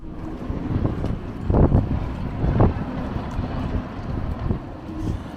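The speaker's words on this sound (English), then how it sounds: "the wind's howling and we're glad we're in the marina" Strong wind roars and buffets the microphone in gusts of around 40 knots at a marina, a low rumbling rush that swells twice, with no speech.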